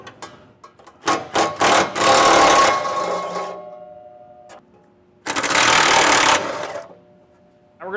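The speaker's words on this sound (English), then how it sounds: "That'll take a 13mm socket in order to get it removed." A power tool with a 13mm socket spins off heat shield bolts under a 2024 GMC Sierra during a fifth wheel underbed kit install, in two loud ratcheting bursts separated by short pauses and lighter clicks.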